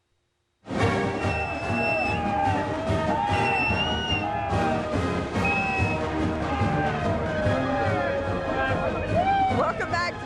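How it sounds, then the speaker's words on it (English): Excited stadium crowd roaring and cheering at the 2007 Orange Bowl, Louisville versus Wake Forest, at Dolphin Stadium in light rain; a dense, loud, continuous wall of voices with whoops and music-like tones running throughout. "where the crowd's getting crazier by the minute"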